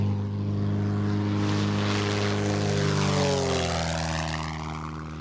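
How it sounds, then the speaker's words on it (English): A modern high-tech light airplane flies past in the Bay Area, its steady propeller-engine drone loud and close, then falling in pitch as it moves away. "It's one of the world's newest and hottest high-tech airplanes."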